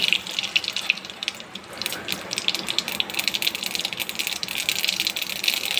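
Mustard seeds splutter in hot oil in a kadai, a dense, crackling sizzle of rapid pops and rattles that carries on steadily and close up.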